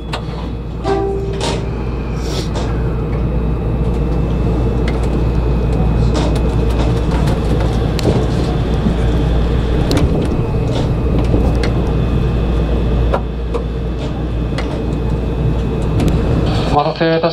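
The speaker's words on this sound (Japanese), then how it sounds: "電車動きます。ご注意ください。" Steady low rumble of a Shonan Monorail 5000 series train starting to move on the Enoshima Line, with a whine rising over it, while announcements and a chime play over the speakers.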